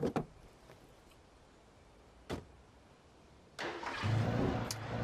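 A car in the Alan Wake game starts up with a couple of sharp clicks and a door-like thump, then the engine catches and rises into a steady, moderately loud running hum, with no talk.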